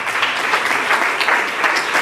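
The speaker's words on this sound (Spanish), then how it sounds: "Dele fuerte el aplauso, Señor." A church conference congregation breaks into steady, dense applause that fills the room evenly from start to finish, with no individual claps standing out.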